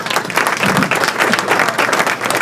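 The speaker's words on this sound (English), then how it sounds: "Well, I'm going to clap for the" Thick, lively applause from a crowd, many hands clapping at once in a steady roar that holds evenly from start to finish.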